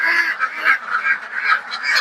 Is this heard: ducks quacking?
yes